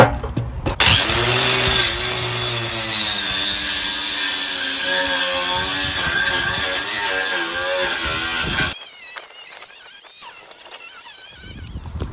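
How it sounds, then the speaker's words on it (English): Wire wheel brush on a power tool grinding and scraping loose paint off the body of a John Deere D120 lawn tractor, a loud, steady whirring abrasion for about nine seconds, then stopping into quieter scraping noises. "Just gonna scrape off the loose paint here. I'm just gonna run the wire brush on here."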